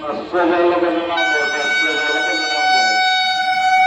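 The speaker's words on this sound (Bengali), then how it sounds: "ট্রেন ঢুকছে 2 নম্বরে" A train pulls into platform 2 of a busy station, with a long, steady horn-like tone sounding through a dense rumble of crowd noise and nearby voices.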